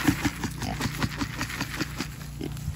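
Pigs being herded on a farm grunt and oink in short, repeated bursts close by, with some shuffling movement mixed in and no talk over them.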